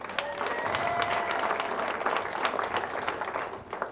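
Comedy club audience at Governors Comedy Club clapping, a steady wash of applause that fills the clip at moderate level with faint crowd murmur beneath.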